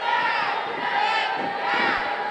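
A crowd at a live independent wrestling show cheers and roars steadily and loudly throughout, a dense wall of voices with no gaps.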